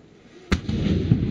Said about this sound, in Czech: když se střílí z toho děla, to dělo ucukne dozadu